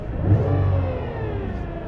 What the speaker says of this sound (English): If you hear a whirring or whining noise, it's a sign that the internal components of the torque converter are failing